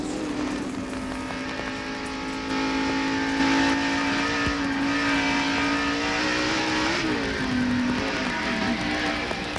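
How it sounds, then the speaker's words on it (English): In-car audio of a 1990 NASCAR Winston Cup race car at the Budweiser 500, its engine holding a steady loud drone, then dropping in pitch as the driver backs off and decelerates coming out of a turn. "you could hear him decelerate when he came off of turn 2"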